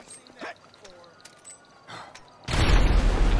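A grenade goes off in the video game GTA V: faint game sounds give way to a sudden, loud, broad blast whose roar holds steady to the end.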